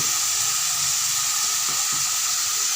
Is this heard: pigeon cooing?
no